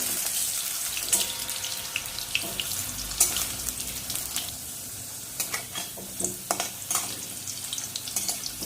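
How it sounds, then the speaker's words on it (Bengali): Potatoes frying in mustard oil in a kadai over a gas flame, a steady close hiss of sizzling with scattered crackles and light clinks of stirring throughout, no talking. "আলুগুলো একটু ভেজে নেব লাল লাল করে"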